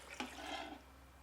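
Stock poured into a Ninja Foodi pressure cooker pot: a quiet, steady liquid splash starting with a small plop and running for under a second, then fading to near silence.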